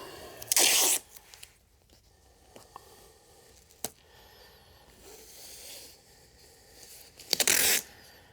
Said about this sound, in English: Then I remove the tape.